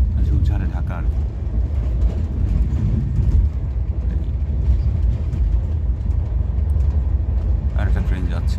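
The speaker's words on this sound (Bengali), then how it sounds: "আর একটা ট্রেন যাচ্ছে" A train rumbles past in hilly, rocky country, a continuous low, heavy roar holding steady throughout, with a voice talking over it.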